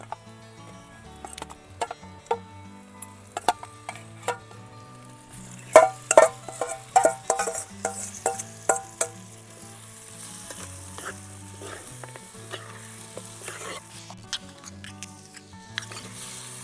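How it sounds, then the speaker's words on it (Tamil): Chicken fried with masala in a pan, village style, sizzling quietly while a utensil stirs and scrapes, making irregular clicks and taps throughout that grow busier in the middle. "சார் இப்போ நல்லா ஃப்ரை ஆயிடுச்சு, நல்லா கலர் ஆயிடுச்சு, கோல்டன் கலர் ஆயிடுச்சு."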